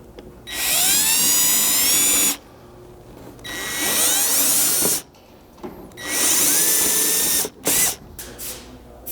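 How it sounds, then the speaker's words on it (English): Three sustained bursts of a small high-pitched drill whining as a small bit bores through a plastic panel, each separated by short pauses, close and loud. "drill essentially straight back through the front of this panel"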